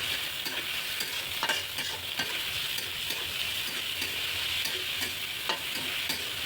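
Chicken pieces and chopped onion frying in hot oil in a kadai, a steady, even sizzle with occasional stirring scrapes, close and alone without talk.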